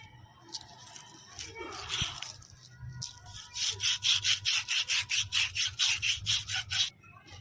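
Steady rhythmic back-and-forth scrubbing of rusted metal on a Mahindra tractor's seized PC/DC control lever, about a dozen quick strokes close up after some softer handling noises.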